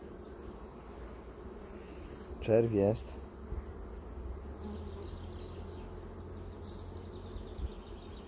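Honey bees buzz steadily around an open, crowded hive with a fully covered frame, a soft continuous drone behind quiet talk and a short louder burst of sound partway through.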